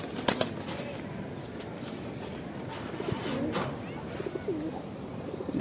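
A pair of Shahjahanpuri pigeons coos softly at close range in a domestic loft, with low repeated rolling calls over light background rustle and a brief flutter near the start.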